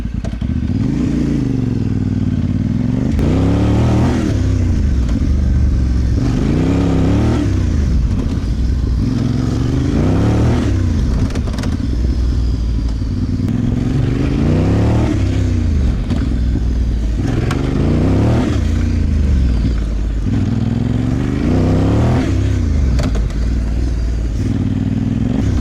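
An adventure motorcycle revs up and eases off in repeated cycles during a standing balance exercise, each acceleration climbing in pitch before slowing, loud and close with a steady rhythm.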